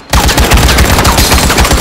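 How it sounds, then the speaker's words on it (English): Rapid, loud close-range gunfire in Firewall Zero Hour erupts abruptly from silence, a fast stream of shots in quick succession lasting under two seconds. "Shot."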